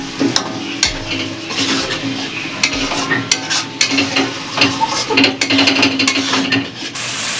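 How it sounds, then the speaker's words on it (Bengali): Hog plums stir-fried with spices in a pan produce a loud, continuous sizzle broken by repeated scraping and clattering of a spatula against the metal, with irregular bursts as the pieces are tossed. "এবার এই মশলার সাথে দিয়ে দেবো এই আমড়া। এবার এর সাথে আমি ভালো করে এটারে কষাবো,"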